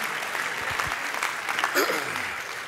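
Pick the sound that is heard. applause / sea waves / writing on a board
applause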